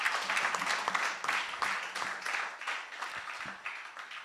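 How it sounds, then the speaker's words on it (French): Audience applause following a business pitch, a broad steady patter of clapping hands lasting throughout, moderately loud with a few louder individual claps standing out near the end. "On l'applaudit."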